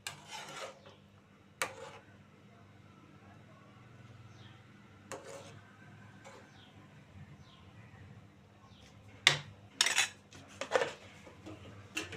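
Ladle scraping and clinking against a pot while fish curry is stirred, a few sharp metallic knocks and rubbing strokes at close range over low background hum, with no talking.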